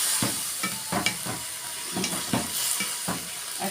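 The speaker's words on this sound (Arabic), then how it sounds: "نقلب." Green beans being stirred in a cooking pot: a steady sizzle with repeated soft scraping strokes at an uneven rhythm, heard up close with no talking.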